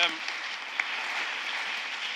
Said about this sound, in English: can we have another huge round of applause for the panel, please?